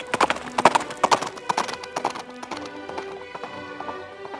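Horse hooves clip-clop in a quick, regular trotting rhythm as a crisp sound effect, loud at first and then fading into softer, scattered taps.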